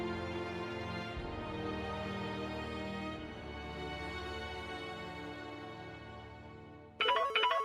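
A mobile phone plays a melodic electronic ringtone indoors, a steady repeating tune lasting several seconds before a brief brighter burst near the end, with no talk over it.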